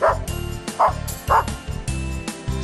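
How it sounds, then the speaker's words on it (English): A dog gives three short yips or barks at an even pace, near and clear, over a steady rhythmic background. "It's a dog."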